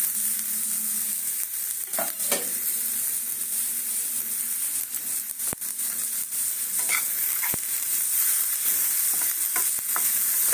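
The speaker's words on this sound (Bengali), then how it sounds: "চলো এটাকে একটু কড়াইতে নাড়িয়ে নিই" A spoon scrapes and stirs a pitha filling cooked in ghee in a frying pan, with soft crackling and a few sharp clicks against the metal, no talking.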